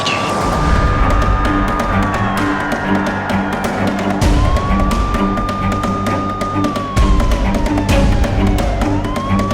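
Police siren wailing continuously and loud, its pitch sweeping up and down over a steady engine rumble as a patrol car pulls over a six-wheeled Ford Bronco near a beach.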